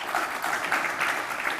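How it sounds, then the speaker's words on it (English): Audience applause at a business forum, a dense, even wash of many hands clapping, moderately loud and steady throughout, with no speech over it. "Let's give them a round of applause."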